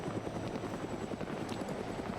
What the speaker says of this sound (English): now the chopper is coming up to finish it up